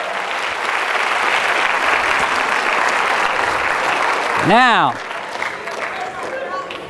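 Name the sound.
audience applause for hypnotized volunteers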